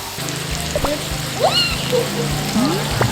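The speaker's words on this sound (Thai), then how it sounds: "อันนี้เราก็จะใส่ซอสปรุงรสลงไปนะคะ" Seasoning sauce is poured into a pan of Korean grilled pork, a short wet trickle among small kitchen clinks, with someone talking over it.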